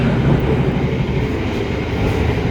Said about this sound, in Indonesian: kereta api Taksaka melintas langsung stasiun Kunto Harjo